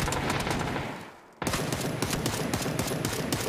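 Gunfire in a PUBG match, rapid bursts of automatic fire that fade briefly and then return loud and dense, continuing steadily with no voices.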